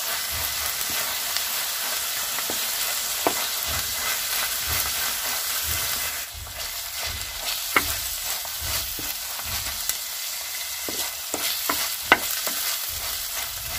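Onions and fenugreek leaves fry in a pan with a steady close hiss and sizzle, broken by repeated scraping stir strokes and small clacks throughout.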